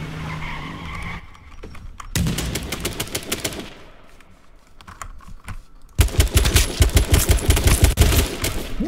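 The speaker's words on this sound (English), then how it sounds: "He put four bullets on me that fast?!" Rapid bursts of video-game gunfire in a shooter match, dense cracking volleys arriving in clusters with a brief lull in the middle, then a louder, sustained stretch of fast repeated shots near the end.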